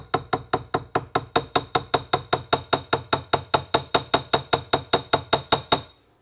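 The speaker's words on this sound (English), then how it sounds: "I'm going to take my riveting hammer" A riveting hammer taps a jewelry rivet set on a steel anvil, about two dozen light, evenly spaced metallic strikes in a steady quick rhythm, close and clear, with no voices.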